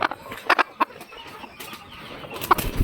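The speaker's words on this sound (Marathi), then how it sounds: "आता ही बघा हे कोपऱ्यात बसली आहे आपली एक गावरान कोंबडी." A free-range village hen is picked up by hand, giving several short bursts of wing flapping and soft clucks close by, with quiet gaps between them and no speech.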